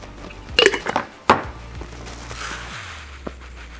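A spoon clinks against a bowl a few times while a tablespoon of homemade Chinese five-spice powder goes into sugar, with sharp close metallic taps early on and a quieter scrape after.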